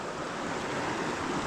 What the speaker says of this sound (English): It's running water.